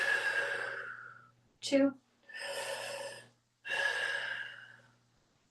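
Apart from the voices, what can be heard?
deep breathing during a squat exercise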